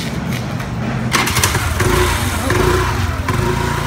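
A moped engine starts on a road in Galle, Sri Lanka, catching with a sputtering burst and then idling with a rough, uneven putter close by.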